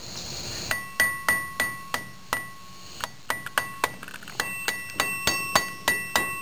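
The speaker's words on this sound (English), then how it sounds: "Ball peen hammer comes in handy." Ball peen hammer peening a nut on a bolt to lock it while building kayak holders, about twenty sharp metallic ringing strikes in a steady, slightly quickening rhythm, close and clear with no talking.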